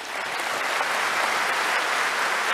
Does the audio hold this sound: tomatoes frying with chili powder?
no